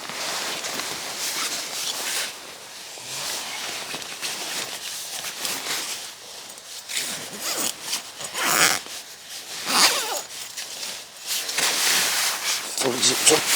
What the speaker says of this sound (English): Fully zipped up.